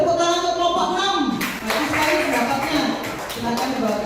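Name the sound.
class applauding group 6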